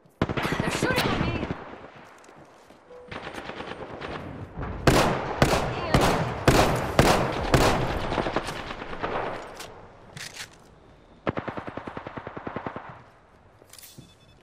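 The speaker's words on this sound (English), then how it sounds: "They're shooting at me!" Rapid gunfire in a video game match, repeated bursts of automatic shots in quick rhythmic strings, loud and close, with brief pauses between volleys and a few voice fragments mixed in.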